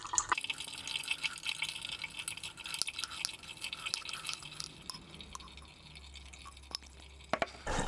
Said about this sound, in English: you can walk away and do something more important than watching coffee drip